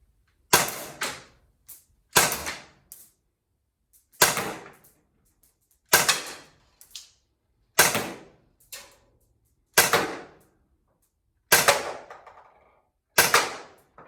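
Eight sharp shots from a less-lethal .43 caliber launcher fired at a target about 15 to 20 feet away, each loud crack followed by a quick impact or echo and spaced roughly every one and a half to two seconds.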